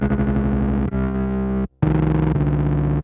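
Heavily distorted electric guitar through a gated, distorted reverb pedal (Safari Pedals Dirty Dog Reverb), chopped by the gate: thick buzzing chords that cut off abruptly, including a brief silent gap, loud and close.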